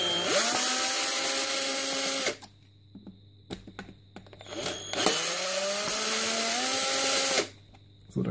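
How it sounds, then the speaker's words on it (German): A cordless screwdriver opens the housing of a Bedini device, two loud, close whirring runs that rise in pitch as they spin up, separated by small clicks and handling noises, with no talking. "wenn ihr mit Akkuschrauber hier den Bedini aufschraubt, seid bitte sehr vorsichtig"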